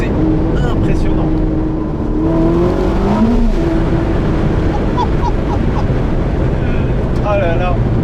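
A 1000-horsepower Ferrari SF90 Spider accelerates hard, its engine note climbing in loud, rising sweeps over steady wind rush, with voices talking inside the car.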